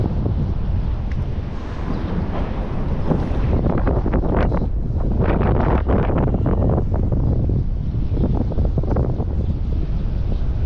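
Strong wind buffets the microphone in loud, uneven gusts, a constant rough roar that swells and rumbles throughout.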